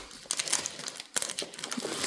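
Metallic foil cardstock crinkles and crackles as it is handled up close, two bursts of crisp rustling separated by a brief pause.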